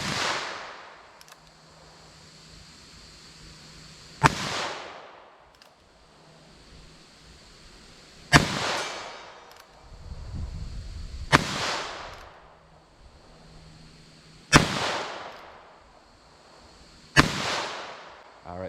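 Federal Punch .22 WMR rifle shots ring out outdoors at a ballistic test: about five sharp, loud cracks spaced several seconds apart, each trailing off into quiet background noise.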